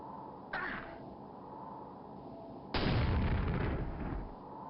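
Gunfire in the Quake video game, with a short blast early and then a louder, sustained booming burst that fades slowly, heard close with no speech.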